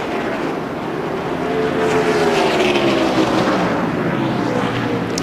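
NASCAR stock cars race at Rockingham in the 2002 Subway 400, their engines droning loudly with rising and falling pitch sweeps as they pass, blending into a continuous roar.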